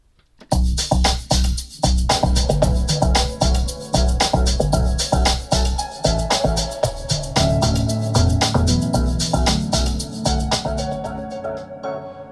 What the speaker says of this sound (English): right now what you're hearing is keys only